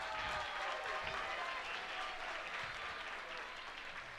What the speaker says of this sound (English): a round of applause for one hell of a fight